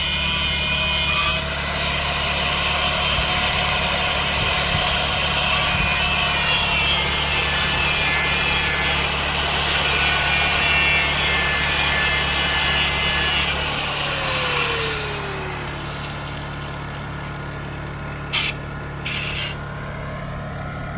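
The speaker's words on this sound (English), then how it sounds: "He's going to have to grind off some rust and some paint so they fit together and get a good electrical connection." A grinder works rust and paint off steel farm-yard gate parts, giving a loud, sustained abrasive whine with a steady drone beneath it. Near the end the tone drops and changes, followed by a few short knocks.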